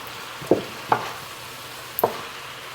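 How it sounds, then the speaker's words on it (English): Peas being stirred into marinara sauce in a pan, with a few distinct spoon scrapes and clinks spaced apart over a quiet, faintly sizzling background. "So we're going to give this a stir. Get those peas stirred up in there."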